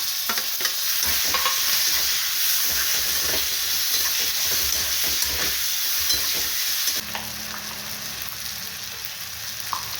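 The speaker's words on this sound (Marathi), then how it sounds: "छान मिक्स होण्यासाठी छान परतून घेत आहे" Green pea curry masala is stirred and sautéed in a pan, giving a continuous close sizzle with repeated scraping stirs. After a short pause the frying carries on more softly.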